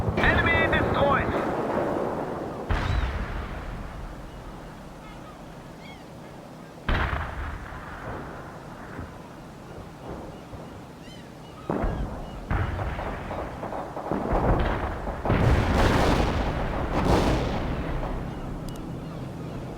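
Artillery barrage in the World in Conflict strategy game: several heavy booming blasts with rumbling decay, landing in irregular bursts spread across the stretch, loud and broadband, with wind-like noise and faint voice radio chatter in between.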